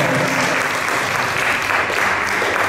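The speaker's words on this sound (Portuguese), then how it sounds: "Dê um forte aplauso para a Virgem" A Catholic charismatic gathering's congregation claps in a strong, steady burst of applause, close and loud for a few seconds without pause.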